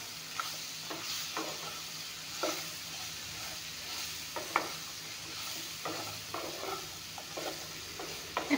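A pan of chillies and other ingredients fries with salt added for a young ash gourd and bhangon fish curry, giving a continuous low sizzle broken by sharp spatula clicks and scrapes at irregular intervals.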